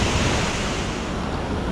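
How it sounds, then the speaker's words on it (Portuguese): Cachoeira da Formosa waterfall in Rio dos Cedros pours as a loud, steady, broadband roar of falling water, heard close up from beneath the drop, with no voices. "vir aqui debaixo da cachoeira para ver essa queda linda aí"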